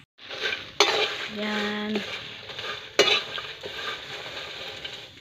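Marang seeds sizzle and rattle in a pan while being stirred, with two sharp scraping clatters and a brief tonal ring, and one short word spoken.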